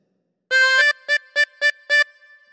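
Harmonica playing phrase two of The Grand Old Duke of York on hole four, a sustained blow note followed by five short even repeated draw notes, near and clean with no voices.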